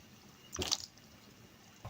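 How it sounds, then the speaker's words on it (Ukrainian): Blanched potato fries for homemade crispy fries dropped into cold water, a single brief splash and slosh near the microphone, then quiet. "Буду її відправляти відразу в холодну воду"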